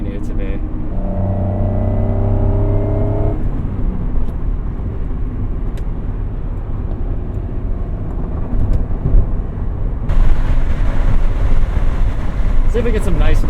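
A 1996 Acura NSX engine drones from inside the cabin, pitch rising briefly before settling into a steady roar, with a brighter rush of noise near the end.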